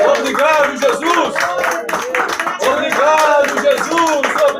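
A small congregation at a home worship service claps together in a regular rhythm, the claps sounding close and loud beneath voices that continue throughout.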